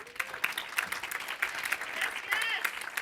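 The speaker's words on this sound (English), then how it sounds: "Give yourselves a round of applause." Applause from an event audience, dense clapping of moderate loudness with voices and chatter mingled in as the crowd responds.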